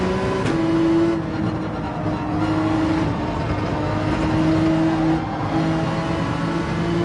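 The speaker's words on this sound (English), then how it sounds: "get right back on the throttle" A race car engine in Gran Turismo 7 on the Nürburgring holds a steady, loud high-revving drone, with a brief gear-change dip near the start and a second one later.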